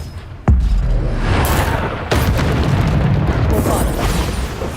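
Bombarda spell blasts in the video game Hogwarts Legacy, a loud booming explosion hitting abruptly and then a second burst, each trailing into a sustained rumbling roar close by, with no voices over it.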